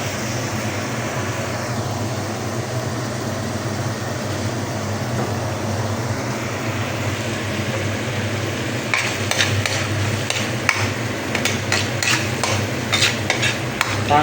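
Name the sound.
sautéing garlic in oil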